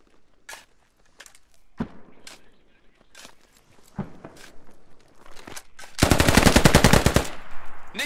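Gunfire in the Squad video game during an urban insurgents versus US special forces battle at Al Basrah: scattered single shots and footsteps, then a loud sustained machine-gun burst near the end, with faint voices.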